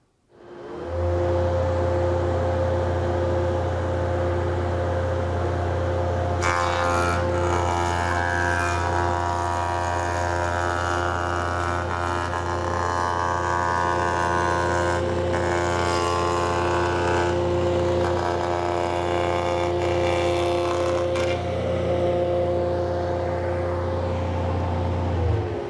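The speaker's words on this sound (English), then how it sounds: "a hold-down clamp will help hold that board down as the molding gets slid past the cutter head" A MiniMax C26 combination machine spins its cutter head steadily as wood molding is slid past it, a loud continuous machine drone with a harsher cutting texture that builds in the middle and then eases.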